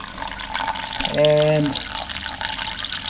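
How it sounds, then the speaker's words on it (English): Hot water from the hose of a homemade reflux still trickles in a slow stream into a bucket, a brief liquid pour rising in the middle amid soft background noise, with a voice briefly heard. "the water that's coming out is pretty hot. It's probably around 60 degrees. Very slow stream."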